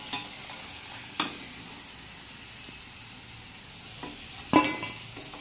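Balls of batter frying in oil in a Maharashtrian home kitchen, a faint steady hiss broken by two sharp clacks or drops, with no one speaking.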